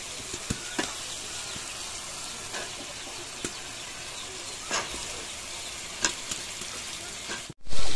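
Surma fish frying with spices in a pan gives a dense, steady sizzle with a few faint clicks of a utensil, close and without talk, ending in a short louder knock.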